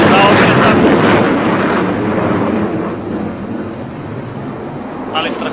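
Military jet engines roar at the 1997 Batajnica airshow, a powerful, heavy rumble that starts loud and close, then slowly fades as the aircraft moves away, with a brief swell near the end.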